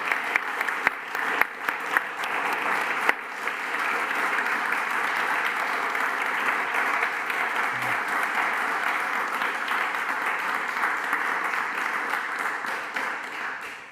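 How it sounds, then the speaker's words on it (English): Continuous crowd applause fills the whole stretch, a steady roar of many hands with a few sharper claps standing out early on. "That applause just doesn't end."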